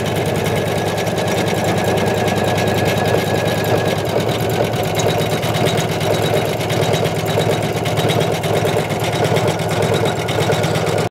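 Embroidery machine stitching thick three-thread fleece sweatshirt fabric, a fast continuous mechanical chatter with steady motor hum, close and loud throughout with no talk.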